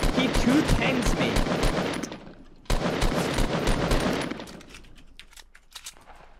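Tactical shotgun fire in a Fortnite tournament match: dense volleys of loud, rapid shots in two bursts, thinning to scattered single blasts.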